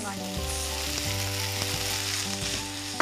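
Chicken spring roll stuffing with soy sauce sizzles and fries steadily in a pan on the stove, a continuous close hiss with a louder burst at the end, no talking.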